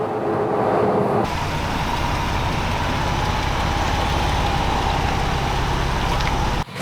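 A Ford Bronco 2.7 turbo with a MagnaFlow large-diameter exhaust gives a steady, loud, deep drone throughout. The note opens lower and shifts upward after a second, running unbroken to the end with no voices.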